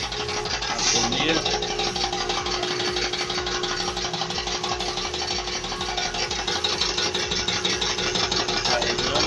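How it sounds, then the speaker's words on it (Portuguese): A one-horsepower electric air compressor motor runs steadily during an oil change, a continuous mechanical drone with a fixed hum and rattling texture, loud and close throughout. "O caso aqui demora porque o motorzinho é fraquinho, é de um cavalo."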